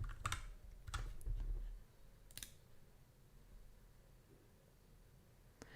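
Someone types on a computer keyboard, a few quiet clustered clicks and keystrokes, close and sparse, against a faint steady background hiss with no talking.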